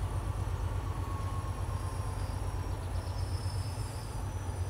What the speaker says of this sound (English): God, sounds like a metro train.